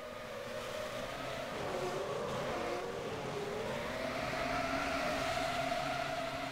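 Formula One race cars in the F1 2013 video game at the start of the Malaysia round, a dense engine roar that builds and rises in pitch as the grid accelerates away, steady and loud throughout with no talk.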